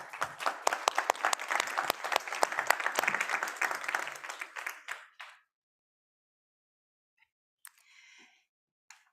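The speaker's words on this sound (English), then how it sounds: "Now let's give a round of applause to GK Aqua." Audience applause for the startup GK Aqua at awards finals, many hands clapping loudly for about four seconds before dying away, then near silence with a couple of faint brief sounds.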